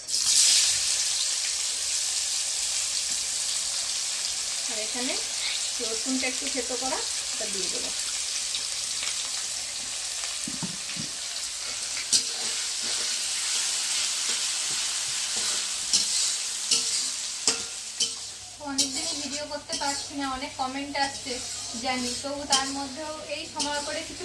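Chopped onion frying in oil with cumin seeds, dried chilli and bay leaf over a clay-pipe wood stove, a steady loud sizzle with stirring scrapes that swells into bubbling crackle near the end; no talk.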